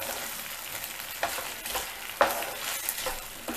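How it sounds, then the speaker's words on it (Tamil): Gravy for bread manchurian being stirred in a frying pan, a steady sizzle with scraping spoon strokes and a few sharper clinks against the pan, close and without talk. "நல்லா மிக்ஸ் பண்ணிக்கணும்."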